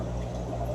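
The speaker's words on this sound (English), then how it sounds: "the bubbles are starting to spread out at the top of the sponge there" Aquarium sponge filter with an uplift tube bubbling water, a brief, steady gurgling wash with a low hum underneath, close and fairly soft.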